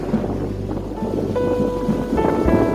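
Strong wind near the Sault Ste. Marie bridge to Michigan roars steadily across the microphone in a deep rumble, with water and faint engine tones in the background.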